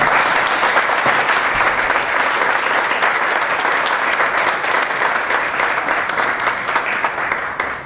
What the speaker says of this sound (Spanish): un aplauso a los jóvenes que están acá